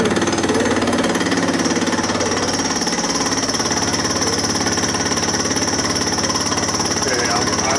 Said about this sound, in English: We're climb milling in velocity mode.